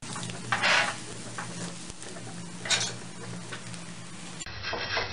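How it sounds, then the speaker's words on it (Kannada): An egg with salt and turmeric fries in a pan at low volume, giving a soft steady sizzle with a few brief louder scraping bursts from stirring, and no talk. "ಮತ್ತೆ ಅರಿಶಿನ ಹಾಕೊಂಡು ಇದೆ ಮೊಟ್ಟೆನ ಸ್ವಲ್ಪ ಫ್ರೈ ಮಾಡ್ಕೊಳ್ಳಿ"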